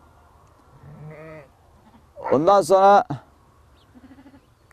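Kıvırcık sheep bleat in a rural flock, with one short bleat followed by a louder, longer wavering cry and a fainter trailing one, interleaved with someone speaking.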